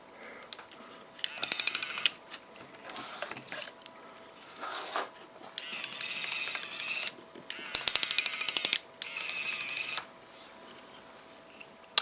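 A small single-motor, two-function robot whirs and clicks as its motor and gears run, with bursts of buzzing gear noise and ratcheting clatter alternating with quieter pauses, close and fairly loud.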